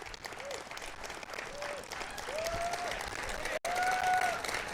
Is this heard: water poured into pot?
no